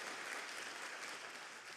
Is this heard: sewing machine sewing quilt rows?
no